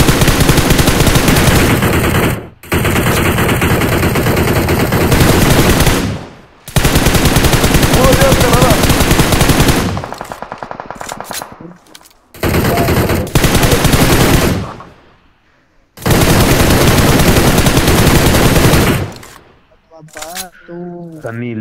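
Online shooter game gunfire, long loud bursts of rapid automatic shots separated by brief pauses, close and harsh, with voices talking between bursts.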